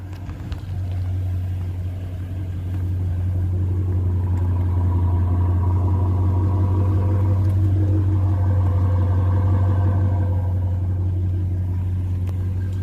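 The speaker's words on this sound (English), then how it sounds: "you can hear the actual muffler better" Dodge Challenger R/T engine idling with its mufflers cut off, a steady deep low rumble that holds loud and close with an even throb throughout, no voices over it.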